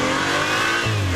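A 2018 BMW X3 M40i's exhaust roars in a short, loud rev, the engine note holding steady and dropping slightly near the end.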